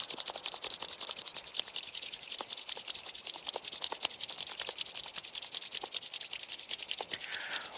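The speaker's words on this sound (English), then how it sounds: "briskly rub your hands like this" Palms rubbed briskly together, a continuous dry, rasping friction at close range with a steady fast rhythm of short strokes, going on alone without talk for several seconds.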